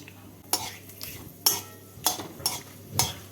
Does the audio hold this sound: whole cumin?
yes